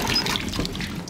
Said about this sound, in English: Sam, you have the water going.